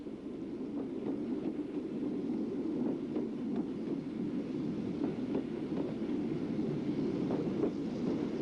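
A train runs on the West Highland line near Mallaig beside the Atlantic coast, with a steady low rumble and faint rhythmic clicks of the wheels throughout.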